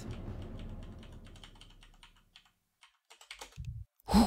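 Keys clatter on a computer keyboard during a Warcraft 3 gaming session, a fast dense patter of taps that thins into a few scattered clicks and ends in a louder burst.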